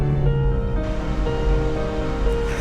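Creek water flows steadily beneath an old rickety wooden bridge at Downey Creek in the Suiattle River Valley rain forest, a loud continuous rushing wash with no speech.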